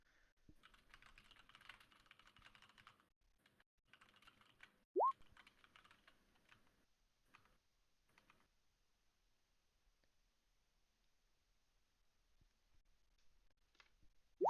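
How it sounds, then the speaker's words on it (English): Someone types on a computer keyboard in bursts of soft rapid clicks, pausing between runs, with a couple of sharp plopping notification blips standing out. "He's typing."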